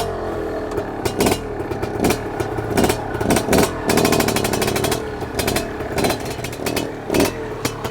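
A Fantic two-stroke twin-shock trials motorcycle runs close by, its engine popping and blipping in uneven revs with a raspy, crackling burble. Bursts of throttle rise and drop over a choppy idle, and the bike is outdoors in wet weather.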